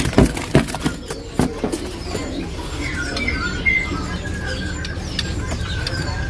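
A sempur hujan (broadbill) calls among other birds, clear whistled chirps and tweets over background noise, with a few sharp knocks and rustles early on; moderately near, no talking.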